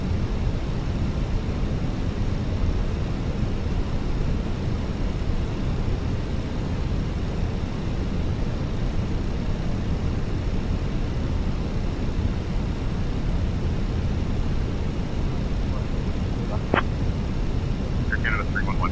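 An airliner in a flight simulator game rolls for takeoff with a steady, loud jet engine roar that holds constant throughout, a faint short click near the end.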